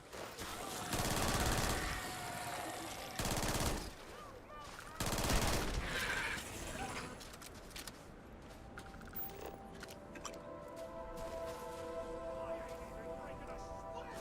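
Gunfire in the video game Starfield: loud bursts of rapid automatic fire in several volleys, with sporadic quieter shots and mechanical clatter after them, and no talking.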